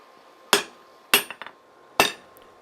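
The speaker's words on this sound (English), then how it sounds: "I'm swinging a big hammer and I'm taking nice hot heats" A big hand hammer strikes a hot steel integral camp knife blade on the anvil with three sharp, ringing blows, the second followed by a few lighter rebound taps.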